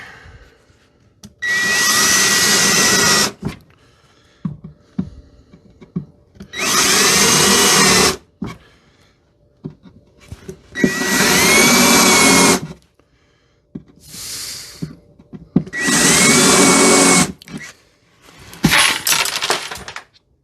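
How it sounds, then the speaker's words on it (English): A power drill pre-drills and countersinks holes in a wooden floating shelf, sounding as five loud, sustained whirring bursts of about two seconds each, separated by short pauses and small clatters. "I'm going to go ahead and get my holes pre-drilled and countersink"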